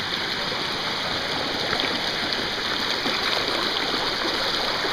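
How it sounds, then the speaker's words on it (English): Rushing stream water pours in a constant, full-bodied wash near a Finger Lakes waterfall, with no footsteps or distinct splashes standing out from the steady flow. "You just have to navigate through some water here."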